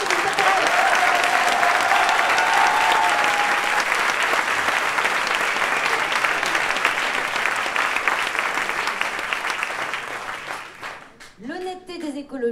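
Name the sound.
audience applause at a political rally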